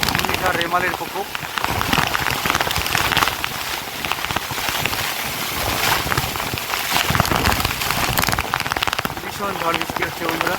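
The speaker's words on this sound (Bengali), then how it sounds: "ভীষণ ঝড় বৃষ্টি হচ্ছে বন্ধুরা।" Heavy rain during Cyclone Remal in Bengal pours down in a dense, steady hiss and patter on surfaces nearby, loud and unbroken throughout.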